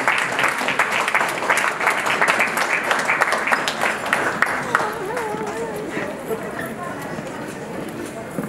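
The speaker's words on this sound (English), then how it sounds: "So round of applause for Mr. and Mrs." Applause for the bride's parents at a wedding reception, a dense run of steady clapping from a large crowd that fades slightly toward the end as a voice begins speaking over it.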